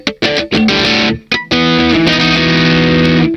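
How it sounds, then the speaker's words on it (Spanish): An electric guitar runs through a Vox DC1 distortion pedal set low, like an overdrive, with the tone below halfway, playing loud, saturated chords in short stabs with brief gaps before a long sustained ringing chord. "Luego entra mi pedal de distorsión, el primero, que yo lo utilizo más como si fuera un overdrive"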